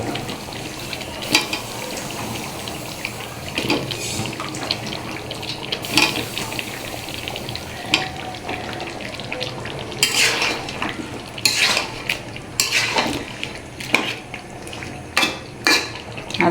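Potato pieces are stirred and fried in a pan of chicken curry, a steady sizzle under repeated scraping and clinking of a spoon against the pot, growing busier and sharper toward the end.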